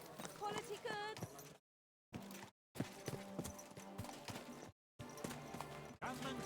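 Horse hooves clip-clop at a riding pace in the medieval game Kingdom Come Deliverance 2, mixed under voices and background game sound, broken by short gaps of silence.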